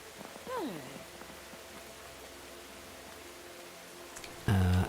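Rain falling in the video game Tales of the Shire, a steady soft hiss running throughout beneath game music tones and a voice, with a louder musical cue near the end.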